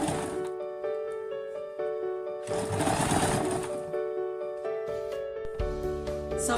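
A sewing machine runs steadily while stitching stretchy stocking fabric, a continuous close mechanical hum with brief surges and pauses in speed throughout.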